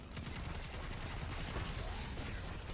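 Rapid gunfire in the shooter game Destiny 2 during a Lost Sector run, a dense stream of repeated shots at a steady rhythm, loud and continuous, layered over game noise.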